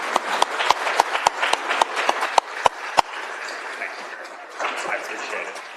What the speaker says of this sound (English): Let's give Dr. Sarwal a round of applause.